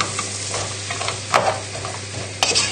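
Goat's cheese tart filling stirred in a pan on full heat, a close steady sizzle with two sharp spoon scrapes against the metal; no talking.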